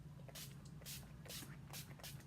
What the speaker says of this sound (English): and just spray over your face